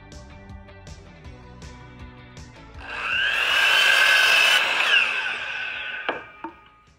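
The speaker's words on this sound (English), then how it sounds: "Let's drill 3 pocket holes on one of these boards." Power drill boring a pocket hole in a wooden board for a high chair build: a loud whirring run of about two seconds after some light handling clatter, then a few knocks as the tool is set down.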